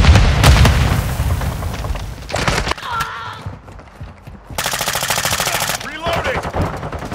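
In Call of Duty MW2, a heavy grenade-like boom opens, followed by loud bursts of rapid automatic gunfire with brief gaps. Game voice callouts are also heard.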